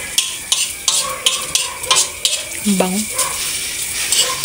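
Onion and garlic sizzle in a hot pan while a utensil scrapes and stirs in quick, irregular strokes. A voice briefly speaks over the frying.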